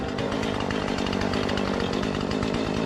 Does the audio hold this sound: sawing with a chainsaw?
yes